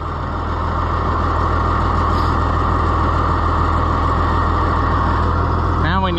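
A farm tractor runs steadily close by, its deep diesel engine rumble holding loud and constant throughout, with a brief higher whine near the end.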